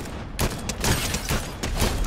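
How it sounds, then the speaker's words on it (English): Gunshots in Fortnite, a rapid, loud run of shots and impacts packed close together over about two seconds, no voices. "I'm gonna shoot him"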